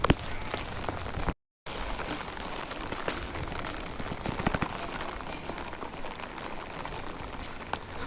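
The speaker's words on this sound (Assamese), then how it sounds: "মই বৰষুণ দিয়াৰ কাৰণে ছাতি লৈ লৈ গৈ আছোঁ" Rain falling outdoors on a cloudy day, a dense steady patter of drops striking surfaces close by, likely on an umbrella, with scattered louder splats and faint footsteps under it.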